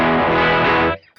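An electric guitar strums a single sustained distorted chord through an overdrive pedal, full and loud, ringing for about a second before being cut off abruptly.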